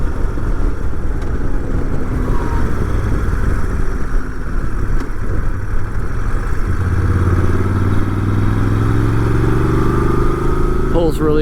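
A 2012 Moto Guzzi Norge 8V motorcycle pulls from low RPM around 2,500, its loud, steady engine drone rising gradually in pitch under heavy wind rush while riding.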